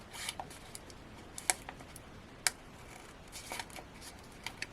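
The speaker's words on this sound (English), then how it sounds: "ease my scissors underneath that frame a little" Quiet, close snips and crisp cuts of scissors working through paper card, a few sharper clicks scattered irregularly over a soft background hiss.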